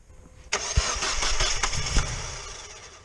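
A Mazda Miata with a swapped BP engine cranks and fires up abruptly, then settles into a loud, rough idle with a couple of throttle blips, heard close up.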